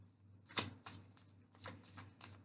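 Tarot deck shuffled by hand, several soft riffling bursts of cards close by and quiet, over a low steady background hum.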